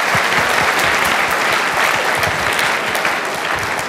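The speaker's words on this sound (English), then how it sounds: "Give him a round of applause for the question." Loud, dense audience applause from a crowd at a talk on inclusivity and diversity, steady and sustained without a break throughout.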